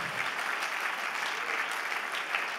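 A church congregation applauds together, a dense, even clatter of many hands held at a steady level for a few seconds, heard at moderate distance with no speech over it.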